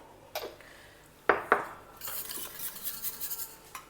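Fresh homemade yogurt beaten in a bowl for tomato raita, a few sharp clinks of a spoon against the bowl followed by a quicker run of soft scraping whisks.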